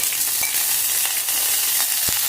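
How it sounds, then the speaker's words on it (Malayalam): Fried mustard seed and curry leaf tempering poured into beetroot pachadi hisses with a loud, steady, close sizzle dotted with small crackling pops, and no voices. "കടുക് വറുത്തത് പച്ചടിയിലേക്ക് ചേർക്കുക"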